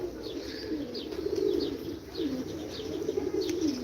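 Play pigeons in Kırıkkale, Turkey coo steadily and close by, a continuous low throaty rolling murmur with faint chirps above it and no talking.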